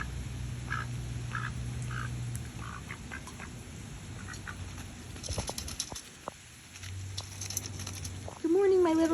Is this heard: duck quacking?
yes